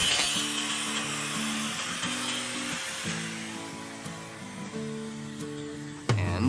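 A PVC pipe being cut for a folding clothesline, heard as a loud steady grinding whine with a constant hum, close and continuous, ending in a brief clunk.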